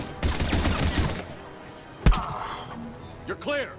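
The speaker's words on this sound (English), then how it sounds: "these civilians have been getting shredded by this autocannon" Autocannon fire in Mass Effect 3 shredding civilians: a loud burst of rapid shots, then a single heavy impact, with short spoken lines heard near the end.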